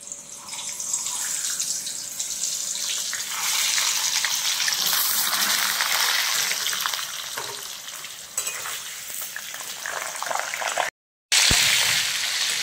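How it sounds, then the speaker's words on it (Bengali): Pointed gourds (potol) frying in hot oil for a stuffed dorma dish, a loud, steady, close sizzle that swells midway, with a brief break near the end. "পটলের দোরমার এই পটলগুলো আমরা ভেজে নেব তেলে।"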